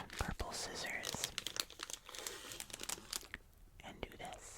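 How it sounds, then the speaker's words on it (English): Purple scissors snip open a packet of Squashies candy up close, with crinkling plastic wrapper and sharp cutting clicks in a quiet ASMR setting, soft and detailed. "Grab out my trusty pair of purple scissors"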